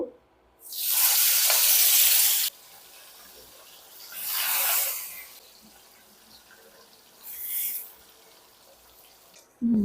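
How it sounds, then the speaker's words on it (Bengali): Small khalisha fish are fried in hot mustard oil, erupting in three loud hissing sizzle bursts as the pieces hit the pan, each fading back to a quiet simmer between them. "তেলটা গরম হয়ে গেছে, এখন আমরা মাছগুলো দিয়ে দিব।"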